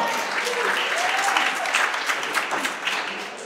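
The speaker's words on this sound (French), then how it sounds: "On peut applaudir Jackie, c'est fort!" A crowd applauds a young woman at a local event in Le Cateau, dense clapping under a loud voice speaking French over it.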